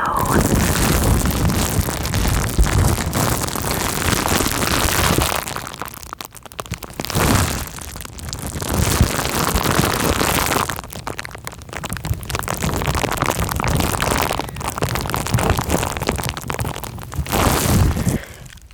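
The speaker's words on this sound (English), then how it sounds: "honestly, to me, bubble wrap crinkle kind of sounds like rain" Bubble wrap crinkled close to a microphone, giving a dense, continuous crackling patter much like rainfall, with brief pauses between bursts of handling and no talking.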